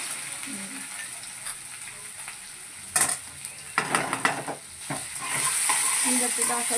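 Green chilies and potato fry in a pan for sabudana khichdi: a continuous hiss of sizzling oil with bursts of spoon scraping and stirring against the pan, close up, with no talk.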